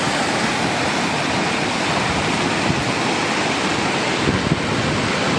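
Floodwater from the overflowing Tamarindo river, near kilometre 60 of the old road to León, roars as a steady, loud broadband rush of churning water that holds without a break throughout.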